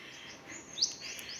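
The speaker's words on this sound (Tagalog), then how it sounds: "Narinig nyo guys. Yung ibon." Small birds chirp among a stand of bamboo, faint brief tweets over quiet outdoor ambience.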